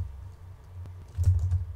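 Keys tapped on a computer keyboard, a few soft scattered clicks that thicken into a brief quicker burst near the end, close and quiet with no talk.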